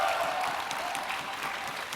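Audience applause at the H1Z1 Invitational esports event, a dense, steady wash of clapping from a large crowd that holds at an even level throughout.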